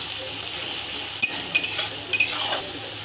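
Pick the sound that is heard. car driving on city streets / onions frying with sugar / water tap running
onions frying with sugar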